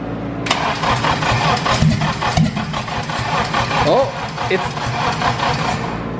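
An engine cranking over with a rough, rhythmic chugging that catches and sputters as it tries to start, loud and close, with a person's voice heard over it.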